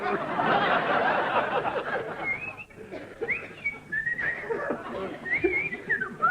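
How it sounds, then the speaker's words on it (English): A person whistles a short wavering tune, faint at first then clearer, following a burst of muffled chatter and soft laughter, in a comedy sketch tribute to Spike Milligan and The Goon Show. "I'm sure I heard mysterious whistling."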